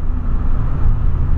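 A deep, loud Volkswagen Polo engine rumble with a sports air filter drones steadily at close range, with no clear rise in pitch over the short stretch.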